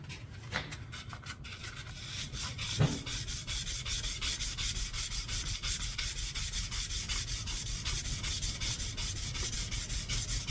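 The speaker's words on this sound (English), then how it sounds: "Now we're starting to 320 grit." Sandpaper of 320 grit rubbed back and forth over a homemade knife blade, a steady rhythmic rasping of quick strokes at close range, no speech.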